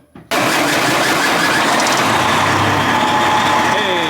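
After a brief quiet moment, a car engine suddenly cranks and catches during a battery analyzer test, then settles into a loud, steady idle close by.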